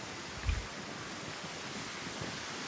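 Steady wind blowing across a beach in Boracay in the early morning, a constant broadband rush with one brief low buffet against the microphone near the start, no voices.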